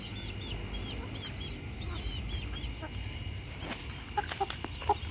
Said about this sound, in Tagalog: Mga manok ni Aling Mimay.